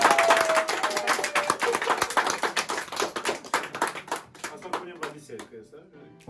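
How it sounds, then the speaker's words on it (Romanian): A small group claps in a village gathering with a priest, sharp distinct hand claps that start lively and thin out into scattered claps, with talk over them. "Aplauze, aplauze,"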